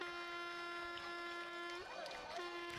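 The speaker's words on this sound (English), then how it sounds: "We can hear the horn. Air horn." An air horn from a student section at a Berwick Panthers vs Northwest Raiders game holds a steady tone for nearly two seconds, dips briefly amid crowd noise, then sounds again, loud over a busy background.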